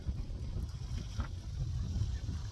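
Wind buffets a microphone outdoors in a low, rumbling, uneven roar that fills the short stretch, steady and close with no clear speech.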